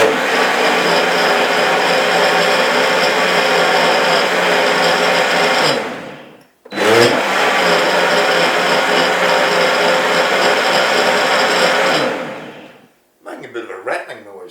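Loud, close blender motor puréeing zucchini and cumin soup with a faint rattle, running steadily for about six seconds, cutting out briefly, then running again before stopping, followed by a short burst of other noise.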